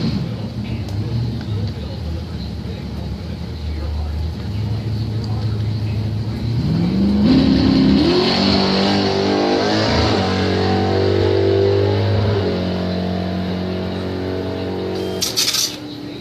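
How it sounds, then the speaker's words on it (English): A corn-fed Ford Mustang race car on a time trial idles, then rumbles loudly as it accelerates hard through rising revs and gear changes. The car is close and the sound is strong, with voices around it. "Time trial here for the corn-fed Mustang."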